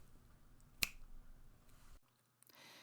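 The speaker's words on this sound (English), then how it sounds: "I'm going to snap my fingers and we're going to go off to that video" A single sharp finger snap rings out once, loud and close, standing alone with no talk around it and only a quiet room behind it.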